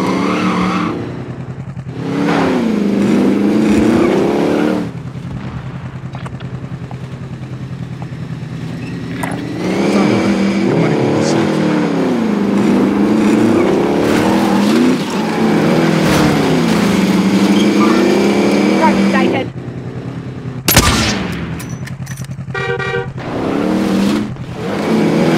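Vehicle driving in the Call of Duty Warzone battle royale game, its engine a steady loud drone that rises and falls with revving over about 25 seconds, with brief breaks and sharper game effects near the end.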